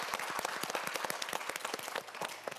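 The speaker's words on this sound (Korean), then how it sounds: "박수 한번 보내주세요." A studio audience at a Korean TV quiz show claps in dense, steady applause, close and lively, with no talking over it.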